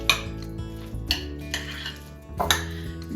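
A spoon stirring lemon into avocado egg salad in a bowl, making several sharp clinks and scrapes against the bowl at irregular intervals, close by and with no speech.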